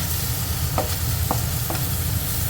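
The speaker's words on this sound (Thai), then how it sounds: "ผัดได้นานๆ เพราะว่ากุ้งตัวมันใหญ่" Large shrimp stir-fried with stink beans and oyster sauce in a pan, a dense continuous sizzle with a few light spatula scrapes and taps heard over it.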